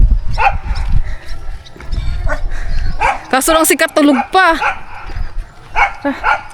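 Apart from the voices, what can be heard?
dogs barking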